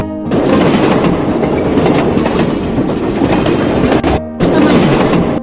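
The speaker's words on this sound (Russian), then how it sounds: "поезд" A train rumbles with loud, steady clickety-clack wheel clatter that is briefly interrupted by a short gap near the end before resuming.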